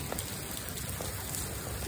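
Steady rain falls outdoors as a dense, even hiss of drops, constant and fairly close throughout with no voices over it.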